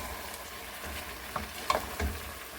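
Chicken curry with turmeric and garam masala is stirred in a pan, a soft low sizzle under scattered scrapes and clicks of the utensil, faint and close, with no talk.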